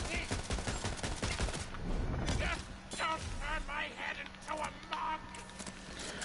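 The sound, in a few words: gunfire in the video game Tiny Tina's Wonderlands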